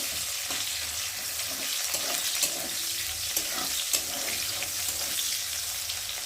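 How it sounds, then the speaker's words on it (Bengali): Chopped onion and panch phoron spices fry in hot oil in a kadai, giving a continuous close sizzle with faint crackles and occasional stirring clicks, and no voices. "আর দেবো অল্প করে পেঁয়াজ। ফোড়নটা একটু ভালো করে ভেজে নেব।"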